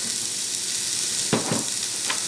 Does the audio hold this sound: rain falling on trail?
no